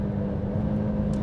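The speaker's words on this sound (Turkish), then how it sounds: "Orta üst devirlerde o motorun sesi, arkadaki egzozun sesi hakikaten insanı kışkırtıyor." Alfa Romeo Giulia Quadrifoglio engine and exhaust in race mode at mid-to-high revs, a steady, close, loud drone with no talk.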